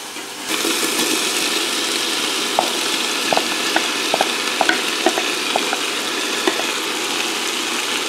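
Diced potatoes stirred into a ground turkey soup pot, a steady loud sizzle starting abruptly, with intermittent spoon taps and scraping knocks against the pot throughout.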